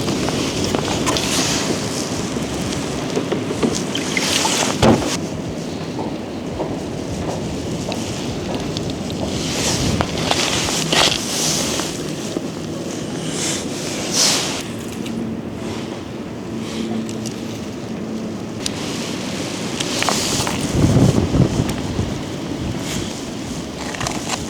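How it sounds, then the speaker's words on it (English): Strong gusts sweep across a frozen lake during ice fishing, buffeting the microphone in loud, uneven roaring bursts that swell and fade over the whole stretch. "But it's gotten extremely windy."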